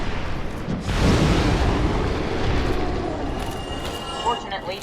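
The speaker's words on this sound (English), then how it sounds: "Fortunately, 2 fire orbs can take them down like that, very easily." Fire orb spells bursting against enemies inside a tomb in Dark Souls, heard as a loud, rumbling blast that swells and lingers for several seconds, with faint game effects flickering near the end.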